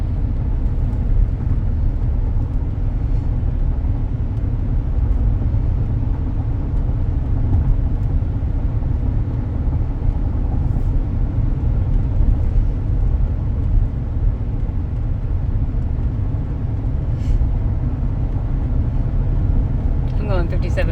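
Steady low road and engine rumble fills the cabin of a 2003 Cadillac DeVille cruising smoothly at 57 mph, a constant droning hum with no breaks and a faint rattle near the end.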